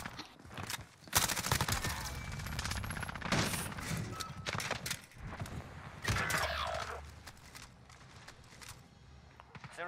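Shotgun blasts in a video game firefight: loud, punchy booms repeat irregularly amid game noise and scattered impacts.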